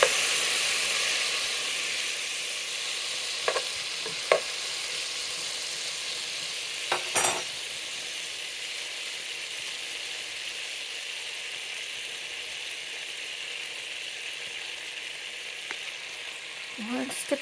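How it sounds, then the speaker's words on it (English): A stick of butter melting in a pot gives a steady, even hiss and sizzle that starts a little louder, with a few faint clicks of a utensil scattered throughout. "we're melting 1 stick of butter"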